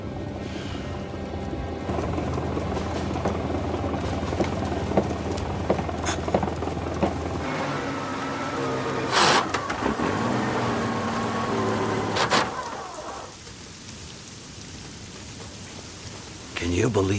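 Heavy rain pours steadily in a loud dense hiss, with occasional sharper splashes and knocks, fading somewhat toward the end.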